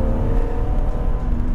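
BMW Z3 M Coupé engine out on the road, a steady low rumbling drone heard from inside the car for a brief stretch, with no talk over it.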